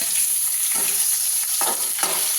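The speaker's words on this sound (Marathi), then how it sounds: "आता तेल तापलेले आता काय करू हा तेलामध्ये हा बटाटे घालूया" Potato pieces frying in hot oil for sabudana khichdi, a loud continuous close sizzle with a couple of brief scraping stirs near the end.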